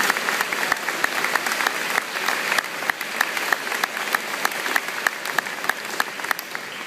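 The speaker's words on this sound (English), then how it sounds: "So I would like everyone to join me in giving them a round of applause." An audience at a 2012 graduation ceremony gives sustained applause, dense steady clapping from a large crowd at moderate distance with a few sharper individual claps standing out.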